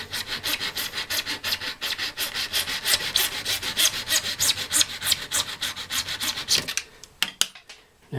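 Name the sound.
cutting off the end of a bottle-organ fipple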